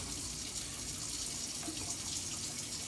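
A kitchen sink faucet runs in a steady, close rush of water that stays even throughout, with no voices.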